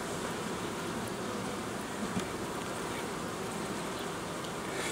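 Honey bees buzz steadily around an open hive during colony work, a dense, continuous drone close by with no voices.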